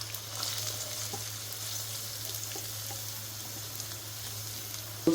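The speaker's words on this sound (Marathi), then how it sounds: "कांदा आपला चांगला फ्राय झाला आहे." Sliced onions fry steadily in a pan for boiled egg bhurji, giving an even, moderate sizzle with light stirring throughout and a brief clatter at the very end.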